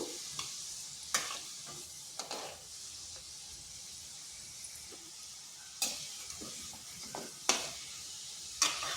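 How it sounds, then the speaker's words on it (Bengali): Flour-and-sugar sweets fry slowly in oil, a faint steady hiss punctuated by occasional sharp stirring clinks and scrapes spaced several seconds apart. "এগুলোকে এইভাবে নেড়ে চেড়ে ভেজে নেব এগুলোকে আর একটু লাল লাল করে ভাজবো"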